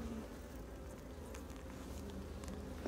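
Honeybees buzzing inside an open beehive during a queen search, a soft, steady low drone of many wings close by with faint rustling and occasional brief bumps, no voices.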